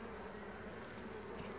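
Honey bees hum steadily around hive frames during honey harvesting, a soft continuous buzz that stays even from start to finish with no talk.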